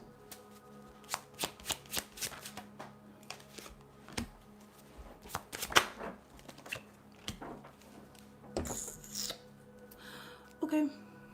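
Tarot cards shuffled by hand in a quiet room, a run of soft riffling, tapping bursts and patters repeating irregularly, close and clear, with faint background sound.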